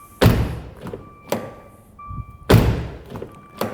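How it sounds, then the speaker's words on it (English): A 2021 Maserati Levante GTS frameless car door shuts twice with solid, heavy thunks, the second closing about two seconds after the first, with lighter clicks and knocks in between. "So check out how this door sounds."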